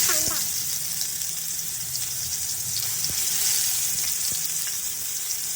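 Sliced onion frying in a hot pan, a steady close sizzle and hiss with faint clinks of a utensil.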